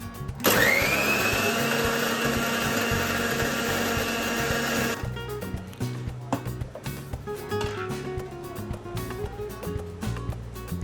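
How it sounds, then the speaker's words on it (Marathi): A mixer grinder whirs loudly for about five seconds, then shuts off, leaving clattering and small handling noises. "त्याला मी आता मिक्सरला फिरवून घेते बघा"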